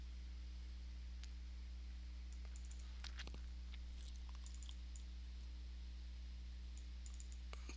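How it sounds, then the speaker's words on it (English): Computer mouse clicks during on-screen chart work, a few faint, sharp clicks scattered over a low, steady electrical hum, some in quick pairs like double clicks. "Double click."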